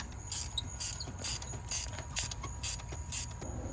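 A ratchet wrench loosening spark plugs on a Chevy Cruze engine, giving quick repeated clicking bursts in an even rhythm, close but fairly faint, with no talking.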